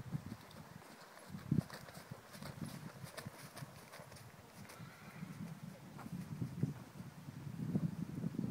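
Horse hooves clip-clopping on firm ground during a ride, an uneven run of soft thuds and knocks that grows busier and a little louder toward the end, over quiet background.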